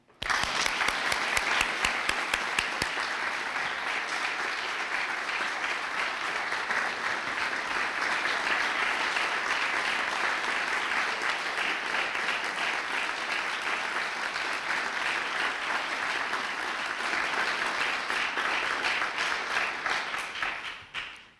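Sustained audience applause welcoming a new university president to the lectern, a dense, even wash of many hands clapping that carries on for about twenty seconds before tapering off.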